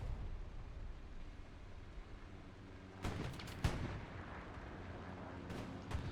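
Gunfire and artillery in the video game Hell Let Loose, distant rumbling booms with a couple of sharp nearby shots over a low battlefield drone.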